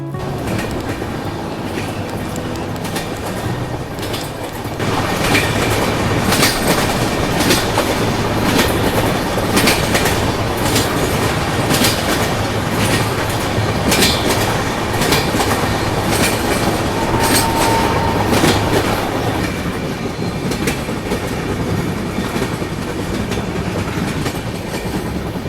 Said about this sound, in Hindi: ट्रेन बहुत ही स्लो रफ्तार में इस ब्रिज से गुजर रही है